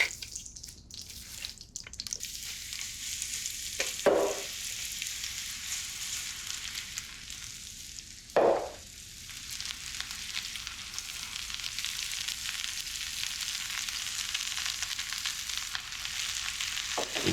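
Onions fry in butter in a pan, giving a continuous, even sizzle that holds steady throughout, with two brief louder bursts where the pan or onions are moved.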